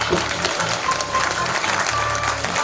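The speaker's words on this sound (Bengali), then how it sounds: "জোরে হাততালি দিন।" Audience clapping for the director of a Bengali stage play, a steady wash of applause with a low rhythmic murmur of music or voices beneath, continuing without a break.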